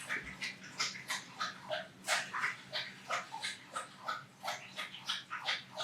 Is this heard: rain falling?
no